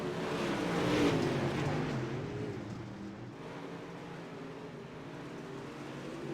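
A late model stock car on the Cedar Lake dirt track drones with a steady engine note that swells briefly as the driver gets into the throttle, then settles into a continuous muffled roar.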